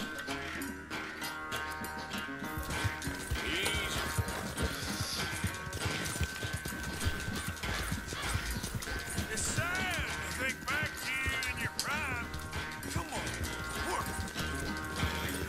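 Horse galloping in the open-world Western game Red Dead Redemption 2, its hooves thudding loud and steady beneath a dense layer of music and game effects, with someone talking over it.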